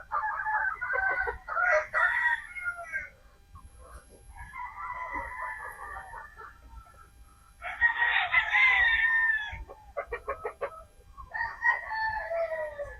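Young pullet chickens in a farm pen call out in a series of close, loud, strained bursts, separated by short quiet gaps.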